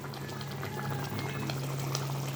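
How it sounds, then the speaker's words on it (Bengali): Fish curry gravy with slit green chillies and khoira fish in a mustard, poppy seed and cashew paste boils steadily, a continuous soft bubbling that is close and fairly quiet, with no talk over it. "ঝোলটা ফুটে উঠছে"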